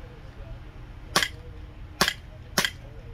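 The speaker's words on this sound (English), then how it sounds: "We're going to use it out of this little pistol, which chronos in somewhere around 350." A small BB pistol firing Iron Sight Bio BBs at roughly 350 fps: three sharp, close snapping shots at uneven intervals over a quiet background.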